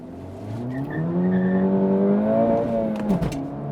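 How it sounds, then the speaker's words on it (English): An Acura Integra Type S, a front-wheel-drive car, launches hard from a full stop, its engine note rising steadily through the revs with a brief tire chirp near the end, loud and close with no talking. "Let's come to a full stop and just give it a quick launch."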